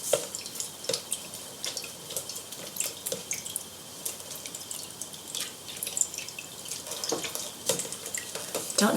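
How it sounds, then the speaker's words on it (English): Water squeezed from wet paper pulp for seed bombs drains and drips into a sink or basin, a close, busy patter of small splashes and trickles with no talk. "we're getting quite a lot of water out of there."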